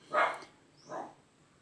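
A dog barks twice, a moderately loud bark followed by a softer second one a little under a second later, with no other sounds around it.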